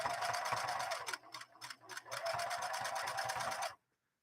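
A Singer 6212C sewing machine runs steadily under a foot controller, its needle clattering fast with a brief slower, stuttering patch midway before it stops abruptly.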